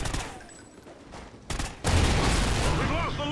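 A sniper shot rings out during an online Call of Duty Ghosts match. It comes as a sudden loud report amid busy gunfire, and a player's talking is mixed in with the game sounds.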